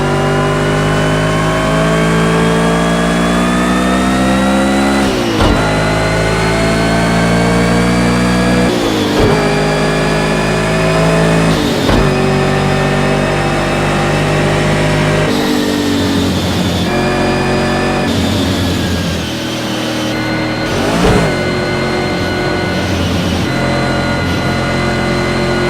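Race car engine in Project Cars 2 held at a strong, steady drone with rising and falling pitch through gear changes and brief lifts, loud and close throughout with no talk, as the car runs slow warm-up laps on cold tires.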